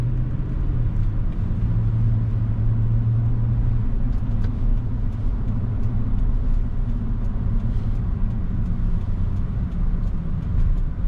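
Truck with Toytec Aluma suspension and no sway bar cruising on the highway, a steady heavy road rumble and engine drone heard from inside the cab.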